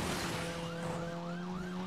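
A police siren in the Asphalt 9 Legends racing game on Switch, a steady wailing rise-and-fall heard faintly in the background under game engine drone.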